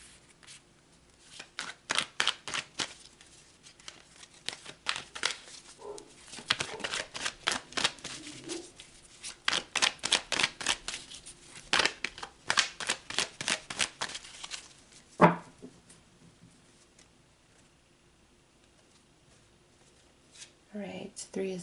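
Tarot cards shuffled by hand in repeated riffling bursts, close and crisp, with a sharp snap near the end and softer card handling after.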